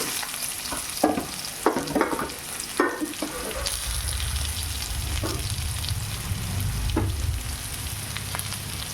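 Garlic and shallots sautéing in coconut oil, a continuous sizzle broken by several sharp spatula scrapes and stirs early on, close up, with a low rumble underneath and no speech.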